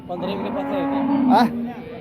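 A Jersey cow at a cattle market in Sangola gives one long, low moo that swells and then trails off, close by, with quiet background around it.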